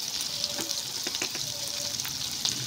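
Pointed gourd and potato fry in oil with salt and turmeric, a dense close sizzle broken by light clicks and scrapes of stirring, with no talking.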